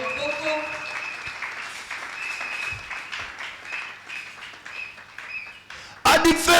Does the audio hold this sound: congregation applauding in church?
yes